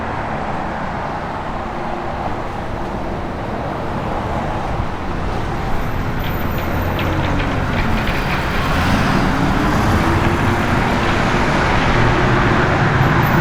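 A 1966 Chevrolet Malibu in Marina blue metallic cruising on an open road, with steady, loud broadband road and engine noise and rushing wind holding constant throughout, no talking.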